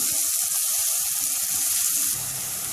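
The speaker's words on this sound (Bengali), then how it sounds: "এই পেঁয়াজটা একটু লাল করে ভেজে নেব" Chopped onions fry in hot oil in a pan with cumin seeds, a steady, fairly close hiss and sizzle that runs on without talk.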